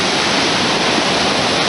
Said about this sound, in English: This is the waterfall that overflows from Lake Solitude.